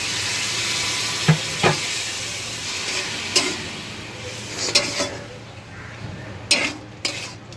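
Spice paste fries in oil in a pan for Bengali-style chicken curry, a continuous close sizzle broken by scattered clinks and scrapes of a spoon stirring against the pot, fading slightly toward the end.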